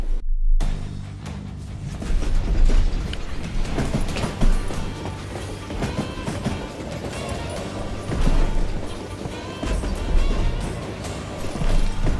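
A train rolls on its rails in the Call of Juarez: Gunslinger video game, a dense, continuous rumble with rattling clatter and occasional heavy knocks that stays loud throughout.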